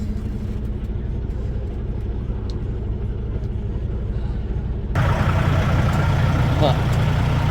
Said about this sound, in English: You hear a little bit of a ticking noise with the truck.